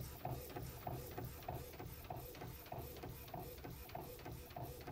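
An Epson P50 inkjet printer runs steadily, its print head shuttling back and forth in an even rhythmic cycle of repeated whirring passes, fairly quiet and with no talk over it.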